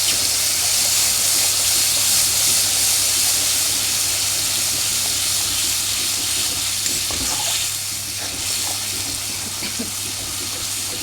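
Spice paste sizzles and fries steadily in a hot pan, a continuous loud hiss of oil with faint stirring scrapes partway through and no talking.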